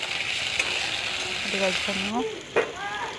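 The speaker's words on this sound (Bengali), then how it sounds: "কড়াইতে তেল গরম হইল, পেঁয়াজ আর রসুনগুলো দিয়ে দিলাম, শুকনো লঙ্কা দিয়ে দিলাম" Tomatoes frying with onion, garlic and dried chili in hot oil in a wok, a steady close sizzle broken by a few scraping clicks and brief higher tones.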